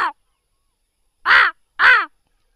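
A man imitates a deeper, thicker crow caw: a clipped caw at the start, then after a pause two loud, rasping caws in quick succession, with no other sound.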